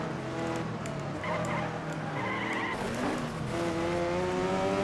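In a racing video game, a muscle car's engine drones steadily while the tires squeal and skid, with shifting pitched engine tones and a rising whine near the end; the sound is continuous and fairly close, with no talk.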